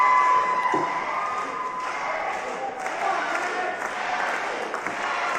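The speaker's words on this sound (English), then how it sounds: "Crowd is cheering her on, chanting Maggie." Competition crowd cheers and chants a competitor's name in a steady, loud roar that fills the whole moment, with a commentator's voice talking over it.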